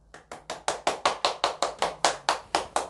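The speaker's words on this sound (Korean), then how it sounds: "박수." A lecture audience claps in a steady, even rhythm, about a dozen sharp hand claps spaced evenly over three seconds, close and clear with no talking.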